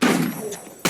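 A burst of gunfire in the Roblox video game, one loud blast fading over most of a second before a second sharp shot cuts in at the end.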